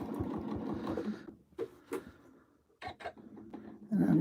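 Sewing machine stitching in the ditch on a quilt, heard as short bursts of rapid mechanical stitching separated by pauses, fairly close and moderately quiet, with a person talking quietly at times.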